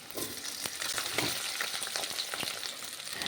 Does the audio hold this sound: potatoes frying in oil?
yes